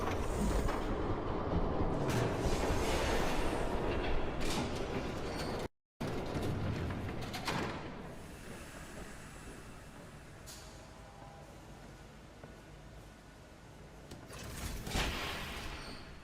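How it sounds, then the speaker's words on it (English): A train approaching in the Batman Telltale Series video game: steady, loud rumbling with rattling, a brief cut near the middle, then a softer rolling roar that swells again toward the end. "There's a train coming."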